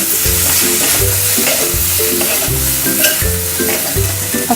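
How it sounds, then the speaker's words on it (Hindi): Chopped okra fries loudly in a pan. A spoon stirs it in a steady rhythm of repeated scrapes, and the close, continuous sizzle runs under each scrape. "अच्छे से सारी चीज़ों को मिक्स करेंगे।"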